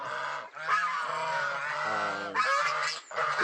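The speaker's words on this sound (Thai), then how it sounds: "อันนี้เป็นห่านนะครับ" Loud, close geese honk continuously in overlapping nasal calls from a goose pen, a noisy flock clamoring with only brief pauses.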